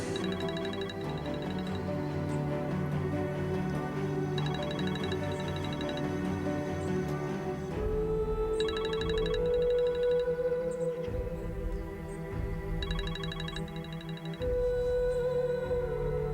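A mobile phone ringtone plays a repeating electronic melodic pattern in regular cycles every few seconds, moderately quiet and blended with a sustained tonal background, with no voices.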